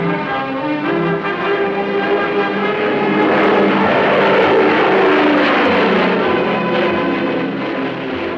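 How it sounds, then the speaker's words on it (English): A big Air Force Globemaster transport aircraft flies over with a loud, steady engine drone that swells slightly in the middle and holds throughout. "And now the big Air Force Globemasters were flown in New Zealand."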